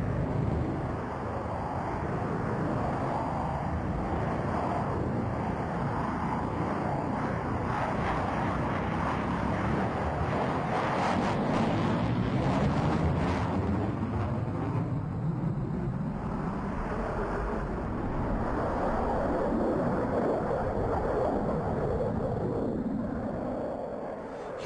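Jet fighter performing an aerobatic manoeuvre at an air display, a continuous distant roar that swells and shifts in pitch as the aircraft sweeps past, under wind noise.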